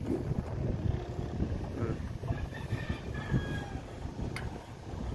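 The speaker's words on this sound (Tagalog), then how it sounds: "Lakas ang hangin." Strong wind buffeting a mountain summit on Mt. Cabuyao near Baguio, a loud continuous rushing roar with low rumbling gusts that fills the whole stretch.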